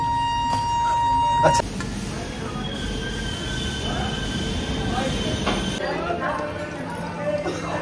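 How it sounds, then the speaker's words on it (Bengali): A Gurumukhi Express train arriving on time rumbles and clatters along the rails with squealing wheels, a brief high tone and thumps, loud and close throughout. "তো আমাদের ট্রেনটা পুরো রাইট টাইমে ঢুকেছে।"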